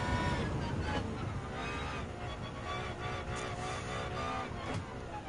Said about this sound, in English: Just love the sound of the engine is going roaring up and shouting out like a scream